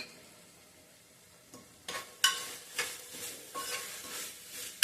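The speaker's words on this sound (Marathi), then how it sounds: "नारळ घातल्यानंतर व्यवस्थित परतून घ्यायचं आहे." Grated fresh coconut is sautéed in a hot pan, a faint background sizzle broken by a series of spatula stirs, roughly one every half second after a quiet start.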